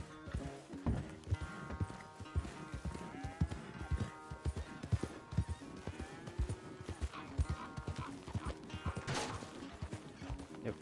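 Steady clip-clop of horse hooves with an occasional whinny in Red Dead Redemption 2, set against a busy game soundtrack of music and effects, with a voice now and then.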